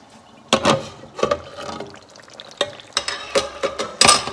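Potatoes for hash are stirred in a hot pan over a low flame, giving several close scraping, clattering stirs with soft sizzling between them, no voices.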